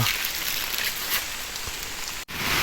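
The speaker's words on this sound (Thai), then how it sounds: "ฝนตก" Steady rain pours down in a deep forest during a storm, a dense, even hiss of drops on surfaces filling the whole stretch, close and loud with no voices.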